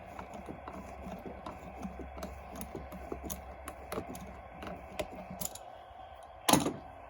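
A 7mm socket loosening the hose clamp at the mass airflow sensor on a 1995 Volvo 960 produces a close, steady run of small ratcheting clicks, ending in a louder clunk and a brief rattle.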